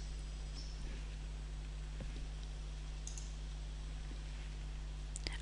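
Computer mouse clicking a software button in the BioNumerics 7 program, a few faint sharp clicks scattered over a steady electrical hum, close and quiet with no talk.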